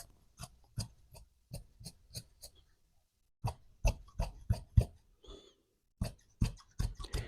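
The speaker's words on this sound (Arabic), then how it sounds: "غادي نقطع دابا الثوب ديالي" Fabric for a shirt is cut with scissors in a run of crisp snips. They come in quick rhythmic clusters with short pauses between them, close and fairly quiet, with no talk.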